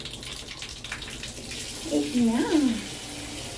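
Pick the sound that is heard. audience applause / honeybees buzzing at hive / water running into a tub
water running into a tub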